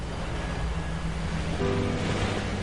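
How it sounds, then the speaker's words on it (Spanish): A torrent of red caustic sludge floods a street as a steady, loud, broadband rushing roar, continuous throughout with no voices. "La calle se convirtió en un río embravecido."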